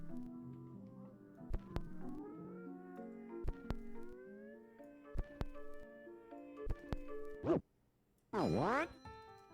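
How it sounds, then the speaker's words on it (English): A cat in the puzzle game A Little to the Left meows and knocks pencils over: several sharp wooden clacks punctuate a gentle melodic musical backdrop, followed by bright springy cartoon meows near the end. "There goes the cat messing up the pencils again."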